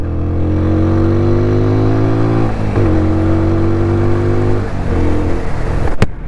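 Apache RTR 200 4V motorcycle engine droning steadily while ridden gently at moderate speed, with its pitch shifting as gears change, close and loud throughout, and a brief sharp click near the end.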